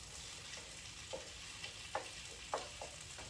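Onions frying soft in a pan for French onion soup give a steady, quiet sizzle, broken by a few soft spatula scrapes spaced about half a second apart.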